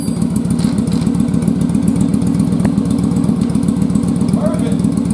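A first-generation Yamaha Virago motorcycle converted to kick start runs close by with a loud, steady, throbbing low thump, its rapid regular pulses continuing unbroken throughout.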